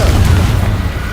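A Confringo fire spell explodes in Hogwarts Legacy, a short, dull, booming blast with a low rumble that fades quickly, with a voice under it.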